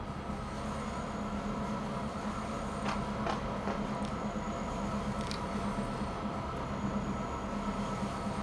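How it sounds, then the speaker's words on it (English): Freight trains rolling out of a yard in the video game Transport Fever 2, a steady low rumble of wheels and engines with faint squeals and clicks, continuous and even throughout. "Let's watch these trains come out."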